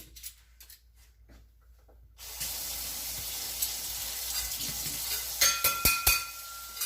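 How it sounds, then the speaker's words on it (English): Cold water running from a kitchen tap into a sink, starting after a quiet stretch of small clatter and then flowing as a steady hiss with a few sharp clinks near the end. "Can you run the cold water for me?"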